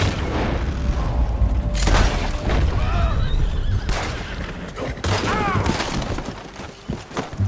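Gunfire during a wagon robbery in Red Dead Redemption 2, with several loud, sharp shots and booming blasts spaced across the scene, horses whinnying between them and voices talking underneath.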